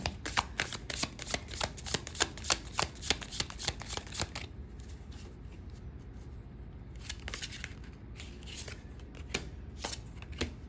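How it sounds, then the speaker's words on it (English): Tarot cards being shuffled by hand in rapid riffling bursts, then a pause of quieter handling before a few more flicks, close up and soft with no talking. "let's go ahead and pull some more cards and see if we can get some more detail on this scenario."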